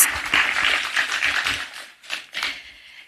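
An audience applauds His Excellency at a security meeting on drug abuse in Mt. Kenya, a dense sustained patter of many hands that thins toward the end with a couple of short bursts.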